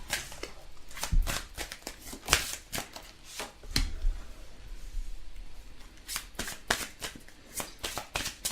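Tarot cards being shuffled by hand, a series of crisp riffling bursts and soft taps at an uneven rhythm, close and fairly quiet, with no talking.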